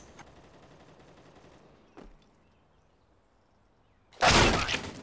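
Gunfire in a video game as a player shoots into a smoke cloud: a faint shot early, then a loud close burst of gunfire near the end after a quiet stretch.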